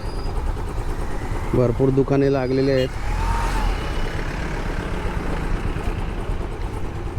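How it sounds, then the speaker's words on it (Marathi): Road traffic passes near the Mhasa village fair, heard from a bike ride. Engines rumble steadily and a vehicle horn blares for about a second, while someone talks over the traffic. "ट्रॅफिक झाले जरा"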